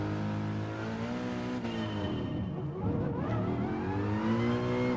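A race car engine in Gran Turismo 7 on PSVR2, a loud, steady, harmonic-rich drone that dips and then climbs again as the car accelerates, with a faint whir underneath and no talk.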